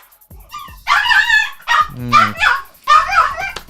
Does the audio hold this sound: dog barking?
yes